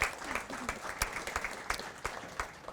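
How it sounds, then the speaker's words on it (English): A live audience claps for a panel at a product conference session, a steady burst of applause with crisp, fairly close hand claps throughout. "quick round of applause for the panel here"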